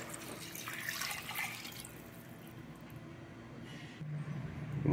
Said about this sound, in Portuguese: Aqui eu já vou colocar a água.